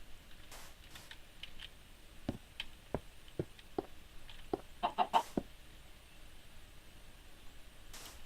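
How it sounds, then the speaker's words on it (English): A chicken in the Minecraft video game clucks in a series of short, sharp, separate pops that quicken into a brief cluster before trailing off, faint and alone over a quiet hiss. "Definitely clucked."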